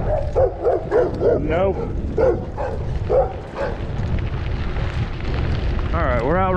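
A pit bull barks repeatedly at a cyclist on a bicycle ride, with loud rapid barks up close and wind noise, and someone shouts over them.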